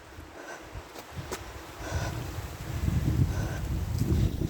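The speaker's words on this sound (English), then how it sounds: "It's pretty windy today" Wind gusting outdoors on a walking path around Alness Golf Course, a low steady rumble that builds and grows louder midway, with faint rustling of falling leaves.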